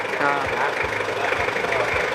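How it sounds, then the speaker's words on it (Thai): A car engine idles roughly with heavy knock, a steady rumble and a regular low knocking pulse that repeats every fraction of a second. "เสียงเครื่องยนต์นี่มันเคาะหนักทีแรกครับ"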